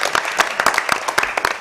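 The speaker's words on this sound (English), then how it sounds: "Give them a round of applause." A crowd at a quiz competition claps enthusiastically, a dense burst of applause from many hands.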